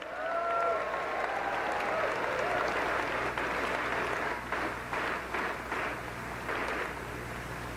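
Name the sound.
audience applause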